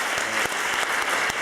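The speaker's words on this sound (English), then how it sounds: "Please, a round of applause to our panelists" An audience at a natural-resources governance conference gives panelists a round of applause: dense, loud, continuous clapping from a crowd, with a few sharper individual claps standing out.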